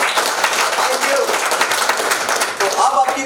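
Audience applause at an investor meet presentation for a residential plot project, a dense patter of clapping sustained for about three seconds, with some voices mixed in.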